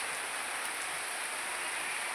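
Monsoon rain falling outside under a heavily overcast sky, a steady, even hiss of dense rainfall, soft and constant, with no voices.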